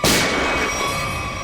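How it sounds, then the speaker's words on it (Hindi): A single sharp gunshot cracks out, followed by a long ringing, echoing decay. "सर गोली चली यहां से"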